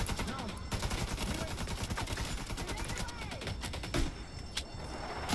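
Rapid bursts of automatic gunfire from the video game Division 2, dense rattling volleys running almost continuously with a few louder single shots near the end, while players talk over the action.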